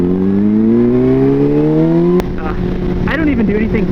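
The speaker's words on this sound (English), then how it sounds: "We're gonna wait for these cars" On a cold, wet road, cars go by with a steady engine whine that rises in pitch and then cuts off, followed by rushing tyre hiss and lighter road noise under a voice speaking.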